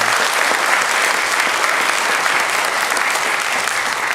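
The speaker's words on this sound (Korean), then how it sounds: "우리 한번 박수로 한번 환영하도록 하겠습니다." A church congregation applauds during a Sunday morning worship service to welcome a cellist: steady, dense clapping from a large room that fills the whole stretch at an even level.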